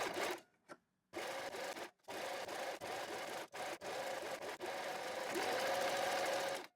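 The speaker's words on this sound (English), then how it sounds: "we top stitch it down on the right side of the fabric" A domestic sewing machine top stitches bias tape onto the right side of fabric, running in several steady bursts with short pauses between them, close and clear, with no talking.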